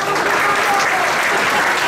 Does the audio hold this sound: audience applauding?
yes